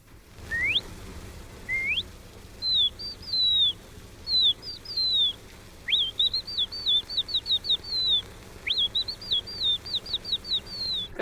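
Caged canaries sing in clear, bright rising chirps and whistled trills, starting sparse then running into quick repeated phrases, close and alone over a faint low hum.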